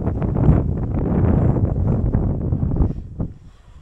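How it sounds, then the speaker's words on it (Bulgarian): Strong gusty wind buffets the microphone outdoors beside a parked Segway Snarler AT6L 570cc ATV, a loud continuous low rumble that swells and dips, easing off near the end. "Почна да духа много гадно."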